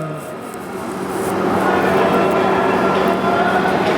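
The Vidarbha Superfast Express (12106) at Bhusawal Junction gives a steady, loud low rumble of rolling train and carriages that swells slightly. Background voices can be heard in the station.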